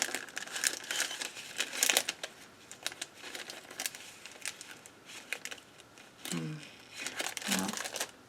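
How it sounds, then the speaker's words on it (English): Paper being cut into small pieces while decorating a planner: quiet close crinkles, snips and rustles in irregular bursts, with a couple of faint brief voiced sounds near the end. "all I'm doing is just laying down little, cutting up little pieces of paper."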